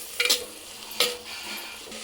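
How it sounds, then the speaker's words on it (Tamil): Onions and tomatoes sauté in a pan for a village-style fish curry, a soft sizzle beneath two quick, clattering spatula scrapes, close and clear with no voices. "வெங்காயம் கொஞ்சம் வதங்கினோடனே தக்காளியை போடுங்க"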